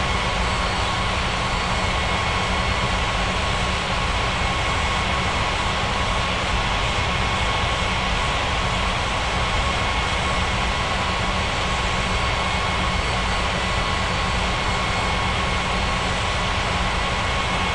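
Jet airliner engines roaring steadily through a takeoff run in the air traffic control game UATC, a continuous broadband rumble with a faint whine that holds loud and unbroken throughout, with no voices over it.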